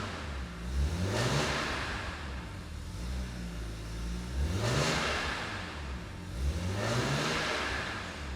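A cold BMW E46 M3 engine blipped three times while held under 3,000 RPM, each rev rising and dropping back to a steady idle, close and clear with no talking.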